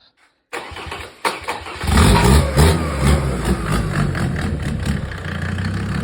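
A Mercedes OM605 2.5-litre turbo diesel car engine cranks after a brief silence, catches and settles into a loud, steady diesel idle close by.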